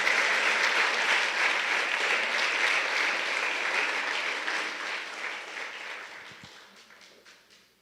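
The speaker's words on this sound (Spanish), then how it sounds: "Dios merece un aplauso." A church congregation applauds, with full, steady clapping that gradually thins and fades out toward the end.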